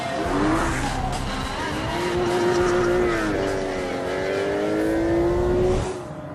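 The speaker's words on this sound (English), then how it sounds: "This is the new Aston Martin Vanquish S" An Aston Martin Vanquish S sports car drives past close by, its engine note rising and holding steady with a loud, continuous tone that fades slightly at the end.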